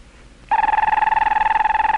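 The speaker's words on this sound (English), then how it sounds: "She hears the phone ring from the loudspeaker in the yard" A 1960 Bell System telephone bell rings through a farm yard loudspeaker, starting abruptly and continuing as a steady, loud, rapidly pulsing electric ring with bright tonal overtones and no talk.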